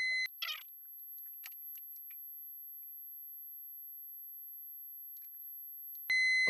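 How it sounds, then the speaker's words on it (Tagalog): Warning beeps from the one-minute timer of a piso vending machine, a short high electronic tone at the start and another at the end, separated by near silence with faint ticks. "Yung pag nag 1 minute siya, parang mag-warning siya. O ina-alarm niya yung user."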